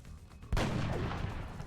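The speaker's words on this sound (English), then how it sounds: "Alright, let's shoot it again." A single heavy gunshot in XCOM Long War booms out suddenly after a quiet moment, followed by a sustained rumbling tail.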